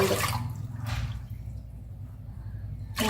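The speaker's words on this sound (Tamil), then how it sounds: "மெஷர்மெண்ட் கப்புலேயே நான் அளந்து ஊற்றுறேன்" Water is poured from a measuring cup into a large pressure cooker in short splashing bursts, a couple of separate pours with quiet gaps between.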